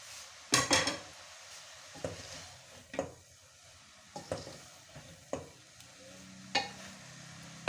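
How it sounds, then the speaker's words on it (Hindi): Boiled chicken pieces go into a pan of sizzling, softened vegetables for chicken kachori filling, with a steady low fry under repeated sharp scrapes and clinks of a spoon against the pan. "अब इस पॉइंट पे मैं चिकन बॉईल किया हुआ वो ऐड कर दूंगी"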